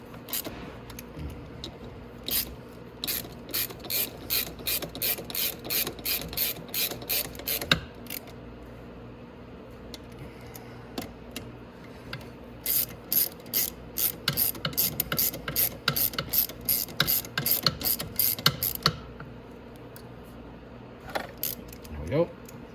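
Bursts of rapid ratchet clicking from a socket wrench tightening the sprocket bolts on a Venom Grizzly or Madix ATV, near and fairly loud, in two long runs with short pauses, mechanical clinks and light handling noise between them.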